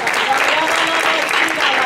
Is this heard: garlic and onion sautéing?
no